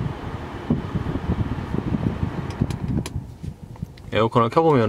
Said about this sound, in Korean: 이걸로 지금 에어컨을 켜보면은